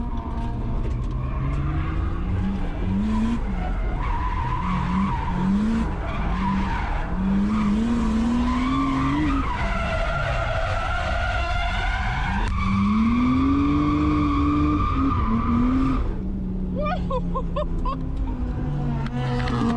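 Tires squeal repeatedly as a Nissan R31 drift car skids and slides at a drift park, with the engine revving hard in between long, wavering screeches.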